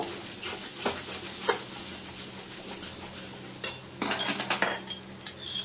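Spices with garam masala being sautéed in a pan: a faint low sizzle under scattered scrapes and metallic clinks of a spoon against the pan, quiet and close, with no talking.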